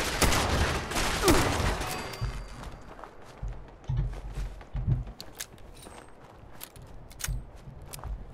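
Automated turrets fire bursts at protectron robots in Fallout 76, loud crackling gunfire at the start giving way to scattered shots, thumps and footsteps.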